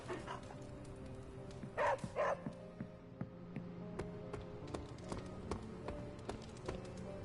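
A hellhound dog in the video game Marvel's Midnight Suns gives two quick, loud barks close together over a quiet game backdrop of soft tones and light taps.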